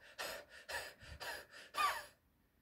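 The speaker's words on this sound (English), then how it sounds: "So breathe in." Five sharp, forceful breaths through the mouth in kapalabhati pranayama, evenly spaced about every half second, close and crisp, with the last one loudest before silence.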